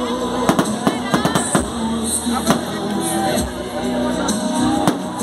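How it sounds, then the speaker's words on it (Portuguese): Traditional New Year fireworks crackle and bang repeatedly, layered over a cheering crowd and voices, with dense bursts throughout and a busy, loud outdoor feel. "ainda acontecendo a queima de fogos, a tradicional queima de fogos"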